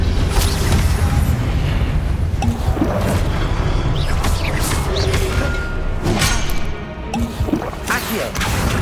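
Confringo spell blasts go off in Hogwarts Legacy as a run of loud, sharp impacts and crashes over dense, busy game noise, with some faint voice underneath.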